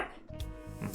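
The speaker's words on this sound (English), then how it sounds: "Angry yappy dog noises." A small, angry, yappy dog lets out a few quick, sharp barks. The barks are close and fairly quiet, and there is no other sound around them.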